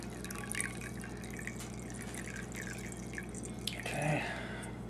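Wort dripping from a mash tun spigot during vorlauf recirculation while brewing a dark beer, a steady close patter of small drips with a brief louder splash of liquid near the end.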